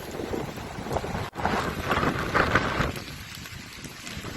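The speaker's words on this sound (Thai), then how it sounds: "ทั้งลมทั้งฝนนะจ๊ะพี่น้อง" Gusty wind roars against the microphone with a wet, hissing wash like rain, loud at first, then easing off toward the end.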